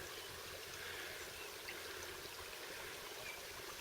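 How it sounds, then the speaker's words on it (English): Steady trickling and babbling of a small stream, continuous and fairly close, with no voices. "Oh, there's some water running."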